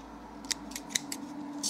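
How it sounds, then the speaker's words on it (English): Several quick, crisp snips of scissors cut through thin material at an uneven pace, close up against a quiet background hum. "we just grab ourselves a scissors and then cut it away"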